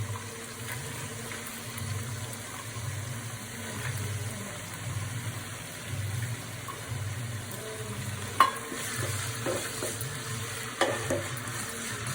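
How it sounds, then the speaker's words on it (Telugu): Carrots are tossed and stirred in a pan for vegetable fried rice, giving a soft continuous sizzle with occasional scraping clicks and a couple of sharper knocks, fairly quiet with no voices. "ఇప్పుడు క్యారెట్ వేస్తున్నా."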